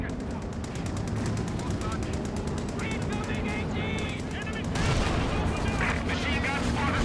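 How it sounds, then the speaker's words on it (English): Rapid, dense machine gun fire in a Company of Heroes 2 World War II battle, with fast regular bursts close by, other gunfire and distant blasts mixed in, and voices talking over it. "Machine gun spotters firing on us!"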